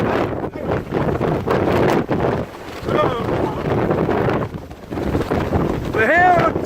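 Gusty wind buffets the microphone on top of a hilltop in Wales, roaring in loud uneven bursts while a person talks through it.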